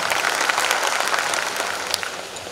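Dense audience applause at an outdoor political gathering in Surkhi, many hands clapping loudly and steadily for a couple of seconds with no pause.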